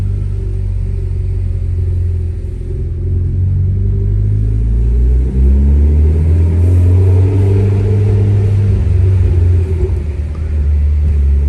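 A Mitsubishi Lancer Evolution X engine hums loudly and steadily at elevated revs, a deep continuous rumble with a slight rise and fall in pitch throughout, during a night drive.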